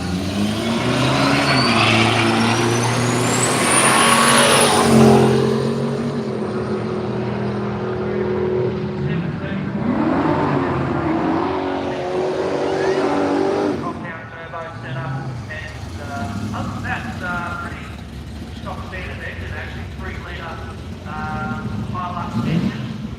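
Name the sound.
diesel-powered Holden drag racing at Willowbank Raceway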